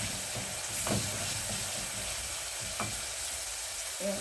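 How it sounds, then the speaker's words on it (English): Onions fry in a pan with a steady close sizzle and crackle. A few soft clicks of a utensil come through the hiss, and nobody speaks. "our onions will just cook"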